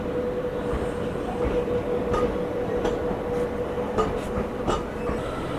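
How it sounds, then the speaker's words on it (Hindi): A superfast express train rolls into an Indian station with a steady heavy rumble, wheel clatter and a faint high squeal, the noise loud and close and running unbroken throughout. "ट्रेन आ चुके हैं"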